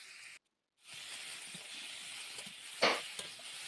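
Thin-cut potatoes with turmeric and salt fry in hot oil, a steady broad sizzle with a brief gap near the start and one louder crackling burst later on.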